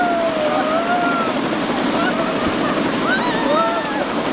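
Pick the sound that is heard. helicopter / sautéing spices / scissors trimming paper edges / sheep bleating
helicopter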